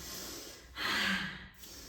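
A single deep breath during a somatic exercise, a soft airy inhale swelling then fading into a gentle exhale, close and quiet with no talk.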